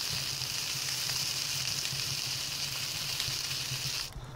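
Food frying in the survival video game Palworld, a steady close hiss and sizzle with a low bubbling undertone that cuts off near the end.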